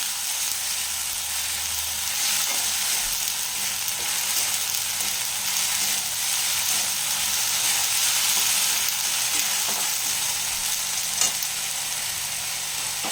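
Dal made from biulir (kalai) lentils in Bengali style sizzles and fries steadily and loudly in a pan after a splash of water, a continuous hiss of steam and bubbling that goes on without pause and without talk.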